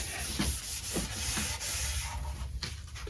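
A cloth rubs finish into a hardwood bench in repeated back-and-forth strokes, close, dry, scratchy swishes in an uneven rhythm, with no talk.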